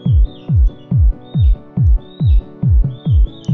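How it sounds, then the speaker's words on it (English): A synth pattern in LMMS plays through a low pass filter. Eight evenly spaced notes repeat, each with a falling, swooping tone and a faint chirp on top, in a steady, loud loop with no voices. "the effect of a low pass filter sounds something like this"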